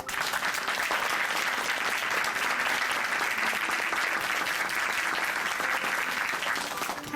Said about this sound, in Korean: 오늘 귀한 간증 전해주신 우리 자매님께 다시 한번 감사의 박수 보내드릴게요.